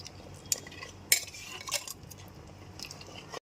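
A spoon works roasted ground spices into mutton curry in a pot over a low gas flame, giving a few soft scrapes and clinks with a couple of sharper knocks against the pot, close and fairly quiet, with no talking.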